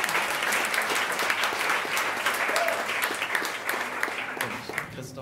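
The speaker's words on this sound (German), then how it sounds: "Ein Applaus." Concert audience at a bachelor concert featuring guitar and drums applauds, a continuous, fairly loud wash of many hands clapping with occasional sharper claps standing out and a faint voice underneath.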